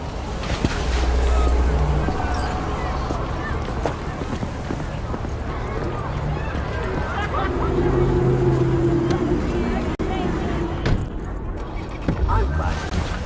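A car driving in the Cyberpunk 2077 video game, a steady engine rumble and road noise that swells and eases over several seconds, with people talking over it.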